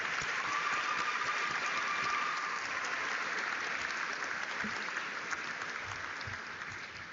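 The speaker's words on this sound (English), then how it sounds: "if we could have another round of applause for Ms. Murphy and Nicole." Sustained audience applause at a Scotia-Glenville high school graduation ceremony, a dense steady wash of many hands clapping that slowly tapers toward the end.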